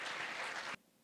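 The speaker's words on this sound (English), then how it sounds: "please join me in giving them another big round of applause for their wonderful performance" Audience applause at an Erasmus+ Day conference after a performance, a dense burst of crowd clapping heard from a distance that cuts off abruptly near the end.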